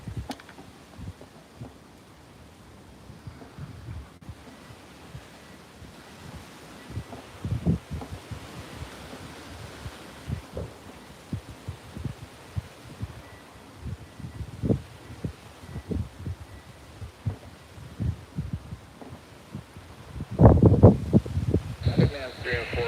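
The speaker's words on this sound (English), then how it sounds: "And it is getting so windy." Strong wind buffets the microphone at RAF Lakenheath, producing rumbling low gusts and rustling that surge and grow louder toward the end.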